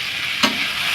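Vegetables with a little salt fry in a pan for village-style egg chowmein, giving a steady close sizzle. A brief scrape of stirring cuts through it near the middle.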